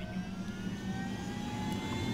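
A helicopter engine in the video game Ghost Recon Wildlands drones at a steady, moderate level, with a constant low hum and faint high whining tones and no talk.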